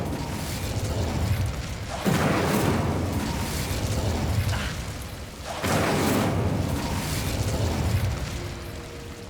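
Two bursts of the Incendio fire spell roar out in Hogwarts Legacy, each a loud whooshing blast about three seconds long that sustains and then fades, with no talk over them.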